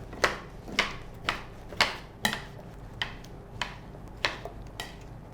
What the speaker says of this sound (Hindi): 1 टीस्पून हम यहाँ पर ऑरिगेनो लेंगे और इसको हम अच्छी तरह से मिक्स कर लेंगे